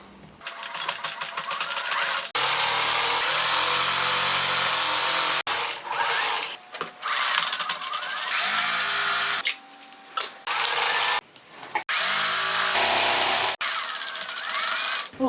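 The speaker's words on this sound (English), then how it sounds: "So I am sewing in a way that the dull side will be on the inside of the bag" A sewing machine stitches the sides of a fabric grow bag in loud, close bursts of rapid whirring, stopping and restarting about half a dozen times with short pauses between runs.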